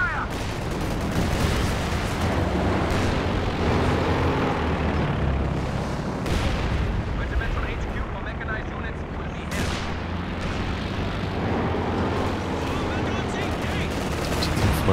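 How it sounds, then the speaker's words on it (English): Heavy mortar barrage in Company of Heroes 2, a dense, continuous wall of loud explosions and gunfire rumbling throughout with sharper blasts punching through, under a voice talking. "Some new barrages out the back on one of the heavy mortars."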